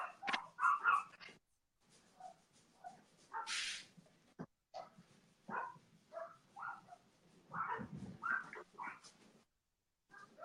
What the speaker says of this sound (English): they're barking at the neighbor's dogs